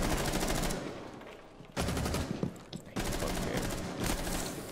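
Loud gunfire from the video game Rainbow Six Siege comes in rapid automatic bursts, three dense volleys separated by brief pauses, with a short spoken word between shots.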